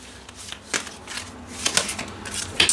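Tarot cards are shuffled and drawn from a deck, giving soft papery riffles and flicks in a few close bursts, with a sharper snap near the end and no talking.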